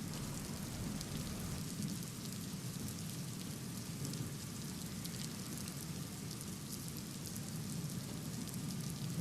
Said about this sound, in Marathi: काही ठिकाणी संततधार तर काही ठिकाणी मुसळधार पाऊस सुरू आहे